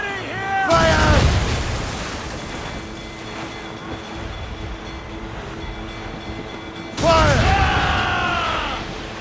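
Ship cannons firing during a naval battle in Assassin's Creed Rogue, two heavy booming volleys a few seconds apart with rumbling decay between them and shouted voices in the background.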